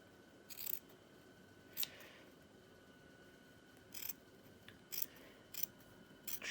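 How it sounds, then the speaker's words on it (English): Scissors trim a fabric seam allowance close to the stitching in a series of quiet, separate snips, spaced irregularly and growing more frequent toward the end, in a calm room with no talking. "I've only trimmed away this layer. Just trimmed it closer to that stitching line"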